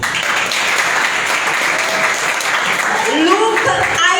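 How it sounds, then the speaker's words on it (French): Ceremony crowd applauding young honourees, sustained even clapping throughout, with a voice rising over the applause toward the end. "Je veux dire qu'on les applaudit vraiment."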